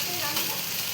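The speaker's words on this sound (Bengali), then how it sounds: "মশলাটা একটু ভেজে নিলাম" Ground spices fry in oil in a pan for mutton curry, producing a steady, close sizzle in a brief burst with no talking.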